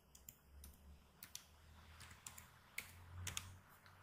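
Keystrokes on a computer keyboard while typing into a web browser, a sparse run of light clicks spread over several seconds, faint and close, with no talking.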